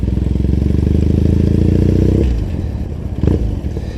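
A motorcycle engine thrums loudly at steady revs on a Tokyo ride, then drops off as the rider eases the throttle, with a brief clatter near the end.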